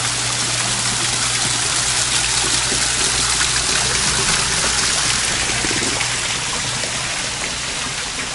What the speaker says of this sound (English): As you know, I like the sound of running water.